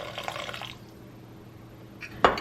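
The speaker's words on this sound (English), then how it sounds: "And splash of that brine." Brine from a can of gandules splashes into a pot with olives, a brief wet pour at the start, then quiet before a sharp clink near the end.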